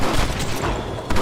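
Gunfire in the video game Red Dead Redemption, with an enemy shooting from above: a loud, dense burst of booming shots packed into about a second, close and harsh.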